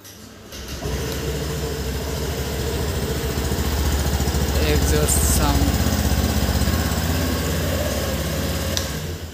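A 2022 Honda Activa Premium Edition 110cc BS6 scooter starts and then runs at a steady idle up close, a low, even engine drone that holds for several seconds.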